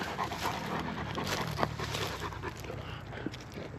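Dogs pant rapidly and steadily close by on a very hot day, with a faint whimper or two, no talking.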